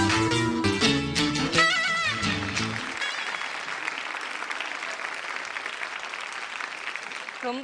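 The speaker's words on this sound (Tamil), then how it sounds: "ஒரு பெரிய கைத்தட்டல் கொடுங்க." Loud, sustained applause from a studio audience at a Tamil television comedy show, following a few seconds of song music and filling the rest of the clip as a dense, steady wash of clapping.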